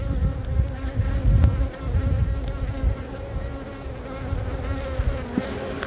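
Honey bees buzz around an open nuc hive during an inspection, a dense droning swarm hum close by with individual bees zipping past.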